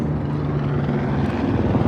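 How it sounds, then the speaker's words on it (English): Tour helicopter passes over the Las Vegas Strip with a steady, loud rotor thrum and engine drone, heard close and alone. "Another helicopter tour."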